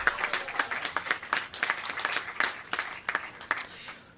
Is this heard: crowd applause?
yes